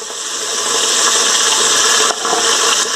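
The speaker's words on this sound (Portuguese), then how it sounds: "E aqui agora, eu vou colocar uma cebola grande, cortada em rodelas. Vou mandar uma refogada aí nessa cebola." A large sliced onion, cut into rings, sizzles steadily in a hot pan as it is sautéed, a dense continuous frying hiss close up with a brief dip near the end.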